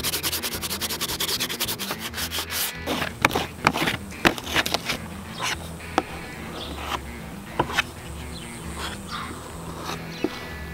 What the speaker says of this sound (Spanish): Voy a lijar un poco esta área